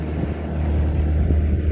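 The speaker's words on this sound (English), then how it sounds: "it's wavy and it's windy" Steady wind rumbles against the microphone outdoors on a wavy lake in Utah, a low continuous buffeting with a faint engine-like drone underneath and no voices.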